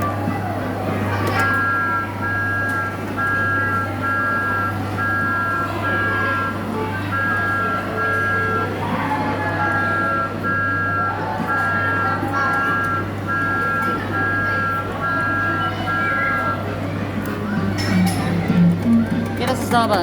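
A Bear in the Big Blue House and Thomas the Tank Engine kiddie ride runs with a steady mechanical hum and repeating electronic beeps, while people talk nearby over a constant low drone.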